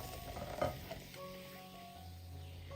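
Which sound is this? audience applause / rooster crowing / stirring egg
stirring egg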